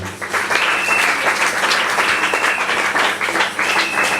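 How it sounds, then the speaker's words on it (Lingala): A church congregation at an Easter service applauds, producing loud, sustained clapping that continues steadily throughout. "Acclamez pour la part de l'éternel notre Dieu."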